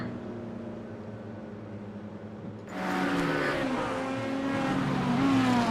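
Race cars in a racing video game lap the Zandvoort track, engines droning steadily and then swelling louder as more cars roar past, with faint tire noise and a quiet voice at times.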